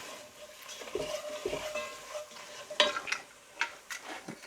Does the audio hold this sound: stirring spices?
yes